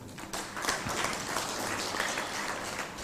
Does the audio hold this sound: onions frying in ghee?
no